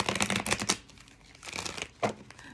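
Tarot cards are shuffled in short crisp bursts of riffling and flapping, close and fairly quiet, with a pause between rounds.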